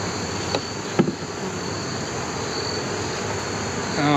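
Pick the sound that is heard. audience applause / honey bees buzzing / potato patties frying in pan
honey bees buzzing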